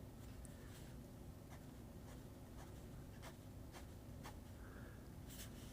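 A fountain pen with a 1.1 stub nib and emerald ink writes lightly on paper, producing faint, steady scratchy strokes over a quiet background hiss, with no one talking.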